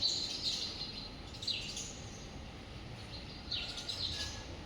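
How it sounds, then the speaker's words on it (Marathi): Sparrows chirp faintly in a small home garden, a few brief high tweets scattered over a low, steady background hum. "आता त्या चिमण्या आहेत ना, इकडे आल्यात"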